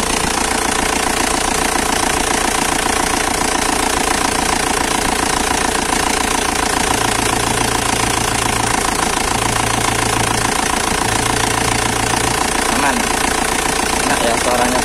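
A 2002 Isuzu Panther LS car engine idles with a steady, dry mechanical clatter and even rhythmic knock, close and loud, while someone talks over it.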